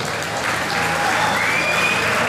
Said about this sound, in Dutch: Mag ik een applaus voor Pompidou Roberts?